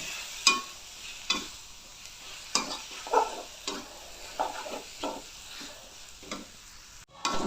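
Boiled noodles stirred and fried in a pan with a little sweet soy sauce: a steady sizzle broken by repeated scraping strokes of the utensil against the pan, close and fairly quiet, with no talking.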